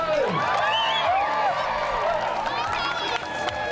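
A large race crowd cheers and whoops at the start as a mass of runners sets off, a dense, steady roar of many voices throughout.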